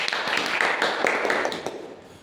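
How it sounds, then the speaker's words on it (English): Brief applause from a classroom audience after a sociology student presentation on deviant behavior, a steady wash of clapping that fades out near the end. "give applause please to Rafi"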